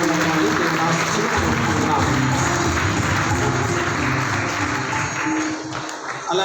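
A church crowd applauds catechism teachers and students, with sustained clapping that fades near the end and voices mixed in.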